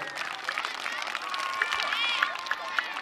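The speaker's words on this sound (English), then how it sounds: "Give Ms. Day a round of applause" Elementary school children at an outdoor school event clapping and cheering, a moderately distant crowd of applause and shrill shouts mixed with chatter.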